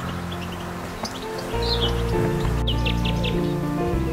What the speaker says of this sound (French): le chardonneret